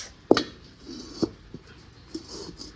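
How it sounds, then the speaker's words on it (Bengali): A few sharp metallic clanks of a large metal wok being handled and set on the stove, close and fairly quiet, spaced apart with soft rustling between. "আমি এখন কড়াই বসায় দিই এই বড় কড়াই দিয়ে রান্না করবো"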